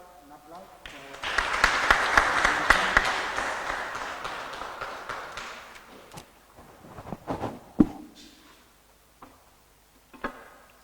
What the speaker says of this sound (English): Can we give an applause for